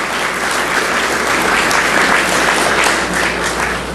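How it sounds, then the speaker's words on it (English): Loud, sustained applause from a large audience at a regional planning agency's annual meeting in Cleveland, a thick, steady roar of clapping with no talking. "I think we should give a round of applause for Northeast Ohio and the greater Cleveland area."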